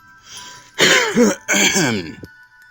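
A person coughs twice, short and harsh, close by, with quiet background before and after.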